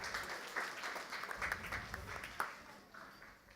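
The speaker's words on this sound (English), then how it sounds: "Give yourselves a round of applause for that." Faint applause from a school board meeting audience, a soft scattered patter of clapping that tapers off toward the end, with some murmuring under it.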